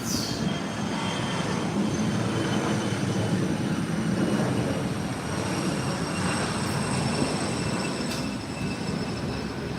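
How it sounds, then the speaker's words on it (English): An airplane makes a short takeoff run down a runway, its engine a loud, steady roar that holds throughout. "She's heading down the runway for the short takeoff."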